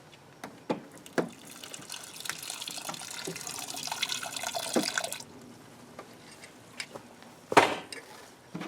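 Water pours into a pot in a steady splashing stream for several seconds, then stops, followed by scattered clinks and a few faint knocks.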